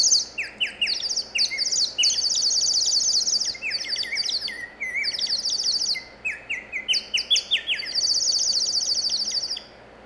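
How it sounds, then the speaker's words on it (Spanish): A ceramic bird-shaped water whistle made by Emilio Espósito warbles in bright, bubbling trills, repeated in short bursts separated by brief pauses, with no talk. "una cerámica pajarito de agua, hecha por el ceramista Emilio Espósito"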